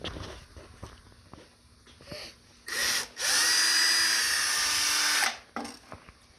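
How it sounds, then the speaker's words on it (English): A power drill whirs in a short burst, then runs in a longer sustained high-pitched whine before stopping, amid faint clicks and shuffling. "I see what you were drilling"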